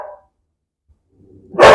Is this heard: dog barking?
yes